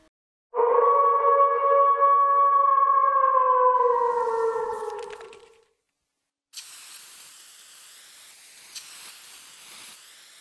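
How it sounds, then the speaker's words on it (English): A wolf howls in one long, steady, tonal call lasting several seconds, slowly sliding down and fading out, followed after a pause by a softer, hissy wash of noise. "Wolf."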